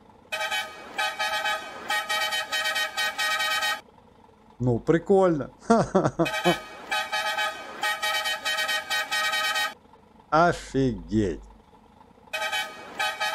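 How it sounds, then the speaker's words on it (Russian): A modded MADMAX truck in Euro Truck Simulator sounds a deep, locomotive-style multi-tone horn in several long blasts, with someone talking in the pauses between them. "Ну, это у нас как тепловозный гудок."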